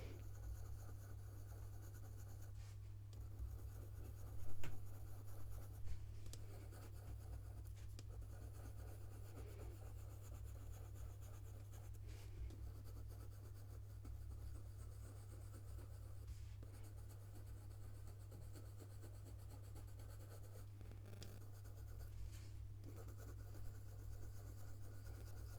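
Polychromos coloured pencil drawing on paper, a steady faint scratchy rubbing of the pencil tip across the sheet for a long stretch, with a low background hum and no talking.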